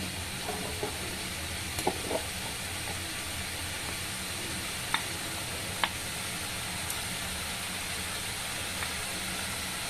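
Winter vegetables frying with a little turmeric for dalia khichuri, a steady low sizzle running throughout with a few faint clicks of a spoon against the pan.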